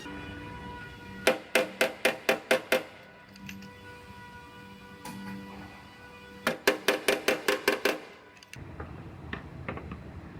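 Two quick bursts of sharp metallic strikes, about six or seven blows each in rapid rhythm, with a steady hum and light clatter between and after.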